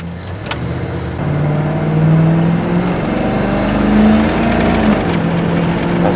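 A Dodge RAM 1500 pickup, just repaired for a transmission shifting fault, accelerates on a test drive, its engine note climbing and dropping as the gears change, close and loud with no talking.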